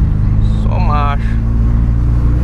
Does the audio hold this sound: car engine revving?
yes